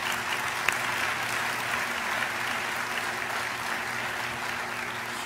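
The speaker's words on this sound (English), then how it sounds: "Please join me in a round of applause for Drs. Peterson, Lloyd-Jones, and the entire Committee on Scientific Sessions program." Conference audience at the American Heart Association Scientific Sessions opening gives a sustained round of applause, broad and even, filling a large hall with no voices over it.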